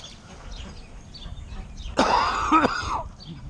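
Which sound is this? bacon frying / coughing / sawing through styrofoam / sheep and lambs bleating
coughing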